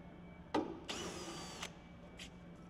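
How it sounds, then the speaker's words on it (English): A power drill backs roofing screws out of the ribs of Lysaght Baroque roof sheeting: a sharp click, then one short whirring burst under a second long, fairly quiet, with a faint later blip and no talk. "remove all screws from the first rib on each side of your roofing run where your capping will be fitted"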